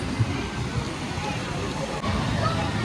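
Water rushes and sloshes steadily on the Thomas and Percy Submarine Splash log flume at Thomas Land, Drayton Manor, a dense continuous wash with faint crowd babble underneath.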